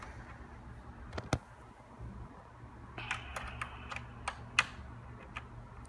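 Small metallic clicks and ticks of screws being worked out of a 2.5-inch PS4 hard drive, a few scattered sharp taps close by over a low steady hum, with no talking.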